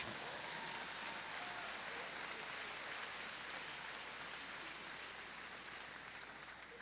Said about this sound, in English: Y'all can clap for that. Go ahead, clap for that.